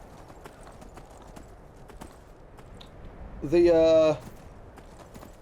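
Horse hooves clip-clop in a steady walking rhythm in the video game Skyrim, with a brief voice cutting in partway through.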